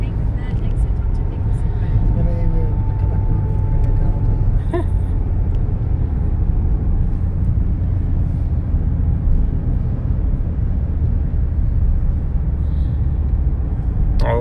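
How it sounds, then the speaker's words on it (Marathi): A car driving along a rural Australian road, its engine and tyre noise forming a constant, close rumble throughout while people talk inside the vehicle. "हे बघा आमचे मित्र बालाजी सर ड्रायव्हिंग करताना."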